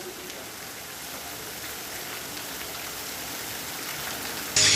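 Continuous rain falls in Nanded as a steady, even hiss that holds at a moderate level throughout, with a brief louder burst at the very end and no voices.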